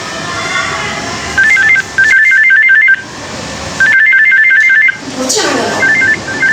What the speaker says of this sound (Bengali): এই তো নাম্বার দিলাম ফোন দিই।